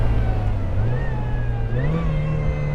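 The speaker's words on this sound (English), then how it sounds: "You can hear the whine of the supercharger." A supercharged Mazda Miata NB on a race track puts out a loud, close engine drone with a rising supercharger whine layered over it as the car pulls through a corner.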